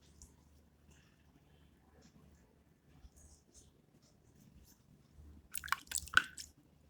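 Hands wet with water massage a dried face pack off the skin, giving a short burst of close, soft squishing and dripping near the end after a long quiet stretch.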